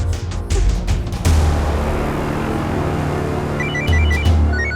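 A telephone rings in repeated short bursts over a busy, dramatic background with music, steady and fairly close.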